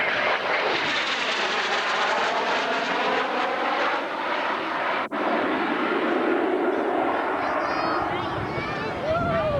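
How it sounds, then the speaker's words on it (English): A Lockheed F-117A jet with a General Electric engine at the 1991 Cleveland Air Show produces a loud, continuous engine roar that stays steady throughout, briefly dipping in the middle, with faint talk mixed underneath. "It utilizes a General Electric engine that is utilized in several Top Gun type fighters"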